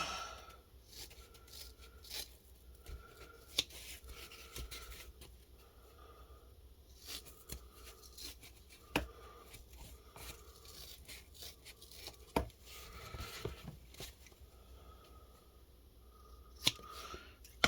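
Foam being hacked apart with a blade while shaping a battery box, a quiet run of scraping, tearing cuts with small crinkly snaps and occasional sharp clicks, up close and without talk.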